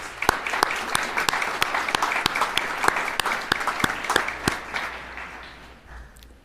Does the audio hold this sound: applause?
yes